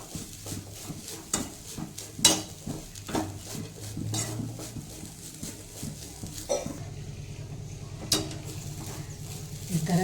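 Grated fresh coconut roasting in ghee for coconut laddu on a low gas flame, with soft sizzling under repeated scraping and clinking of a spoon against the pan.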